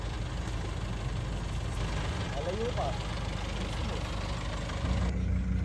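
A vehicle engine idles with a constant low rumble that runs throughout, growing slightly heavier near the end, while people talk briefly over it.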